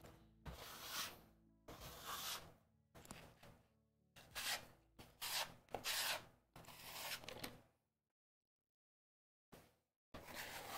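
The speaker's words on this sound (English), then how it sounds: "let's get rid of the extra flour on the board. Just use a bench scraper to clean that up" A bench scraper rubs and scrapes stray flour off a board in several close, brisk bursts, separated by short pauses and then a stretch of silence before one last scrape.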